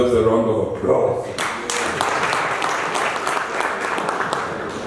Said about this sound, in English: I think Nampower deserves a round of applause.